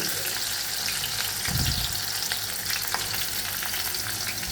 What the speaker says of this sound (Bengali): এবার যে সবজি, ক্যাপসিকাম এবং পেঁয়াজ ভেজে রেখেছিলাম সেটা দিচ্ছি কড়াইতে।